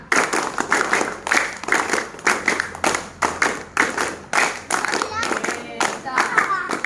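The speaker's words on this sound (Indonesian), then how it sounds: "Tepuk lima." Children clap together in rhythmic bursts of quick claps, several groups in a row at close range, while voices call out counts between the bursts.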